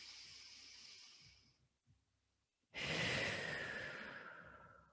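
Slow, deep breathing during a flowing yoga class: a long, soft exhale fades out, a brief pause follows, then a strong, full inhale rushes in close to the microphone and tapers off gradually.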